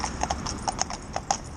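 A Frisian horse, a commercial carriage horse used for funerals and weddings, clip-clops at a steady walk, its hooves striking crisply and evenly close by.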